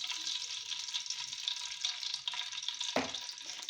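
Four tablespoons of desi ghee heating in a cooking pot, a soft steady sizzle and crackle, close but quiet, with a single sharp clunk of a utensil near the end.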